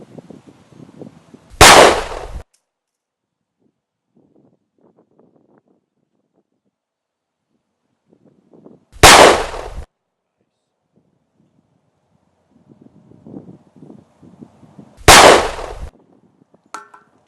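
Three loud, sharp pistol shots from a Springfield XD-S ring out outdoors several seconds apart, each with a brief decay, and low voices and handling noise can be heard between them.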